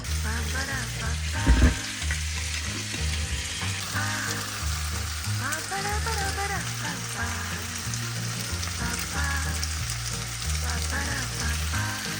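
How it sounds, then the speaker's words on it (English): Seasoned potatoes fry and simmer in a pan on a stove, a constant dense sizzle with scattered pops and a brief clatter early on, with no speech. "I'm just gonna turn the heat down and let them cook, simmer on the stove"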